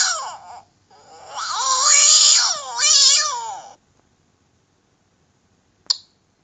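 A cat meows in several drawn-out, wavering cries, loud and close with short pauses between, followed by silence and a brief click near the end.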